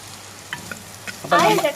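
Mango pieces drop into a pan of hot kaari fish curry gravy, setting off a loud, bright sizzle after a few quiet stirring clicks, close and without speech.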